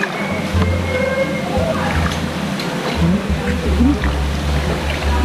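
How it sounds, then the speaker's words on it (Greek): Boat ride on the Mekong river: water sloshes and splashes steadily against the hull, a low motor hums underneath, and people talk intermittently nearby. "Είμαστε βαρκάδα στο ποταμό"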